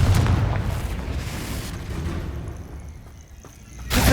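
A Confringo fire spell explosion in the video game Hogwarts Legacy opens with a heavy, booming burst that fades into a rumbling tail before a second sharp blast near the end.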